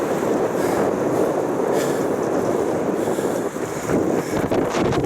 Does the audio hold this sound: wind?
yes